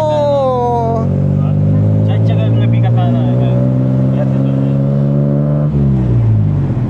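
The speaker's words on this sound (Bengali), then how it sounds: "এই টুকটুকের সাউন্ড কি" A tuk-tuk on a Thai road revs loudly and close, its engine drone holding steady rising tones before dropping off near the end, with loud background music playing over it.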